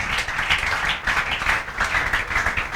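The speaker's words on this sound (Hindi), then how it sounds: "आयुष जैन के लिए जोरदार तालियां बजाओ भाई" A class of students clapping together in a steady, dense round of applause, close and continuous with rhythmic swells, no talking over it.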